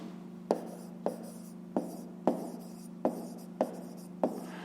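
A pen writes out a math answer on paper: seven or so short scratchy strokes in a regular rhythm, close and fairly quiet over a faint steady hum, with no talking.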